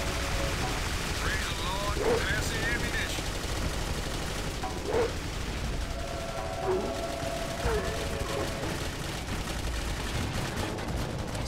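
Gunfire in the shooter video game Clive Barker's Jericho, with repeated bursts of shots under dense game noise and music while a person talks over it.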